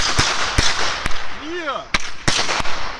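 Fireworks are set off at a home in Spartanburg, with a series of sharp, loud bangs spaced through the moment and a brief voice rising in between, outdoors and close by.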